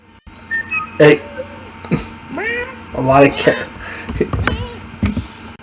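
Several cats meow in a string of close, loud calls, some drawn out and wavering, with short pauses between them and a steady low hum underneath.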